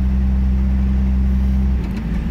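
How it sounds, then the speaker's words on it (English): A ratty old classic Comet car drives along with a loud, steady low engine drone that shifts and roughens slightly near the end. "when you drive a classic, even if they're ratty old car like this Comet is"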